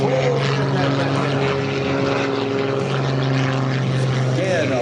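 A 400-horsepower biplane engine roars continuously during air show aerobatics, a loud droning propeller note that shifts in pitch as the aircraft maneuvers overhead, with an announcer talking over it.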